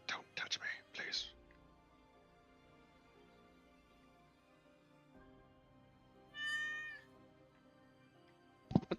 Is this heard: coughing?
no